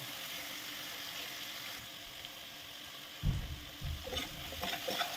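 Mutton sautéing in oil over a high flame gives a quiet, continuous sizzle, with a few louder scraping stirs near the end; faint and without speech.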